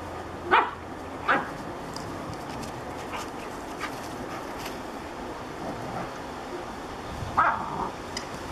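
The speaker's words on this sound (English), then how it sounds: "my F1 Labradoodle" An F1 Labradoodle barks in short scattered bursts while playing outdoors, a few sharp woofs spaced apart at moderate distance over a soft background wash.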